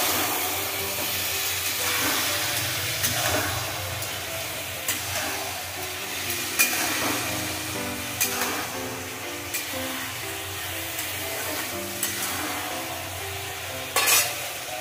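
Ridge gourd being sautéed with turmeric powder in a pan, a steady close sizzle under repeated scraping and stirring strokes, with occasional sharp clinks of the spoon against the pan and no speech.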